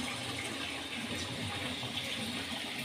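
Malpua batter ladled into hot oil in a wok, giving a quiet, steady, hissing sizzle that runs continuously without pause.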